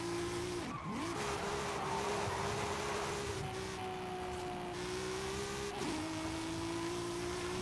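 A car races flat out down a straightaway in Forza Horizon 5, its engine holding a loud, steady high drone with two brief dips in pitch, as if shifting gears.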